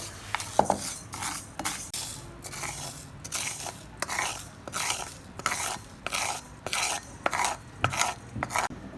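A metal pan clatters and scrapes repeatedly on a stovetop as roasted moong dal is taken off the heat for Katte Pongali, with irregular close clinks and rasping strokes and no talking.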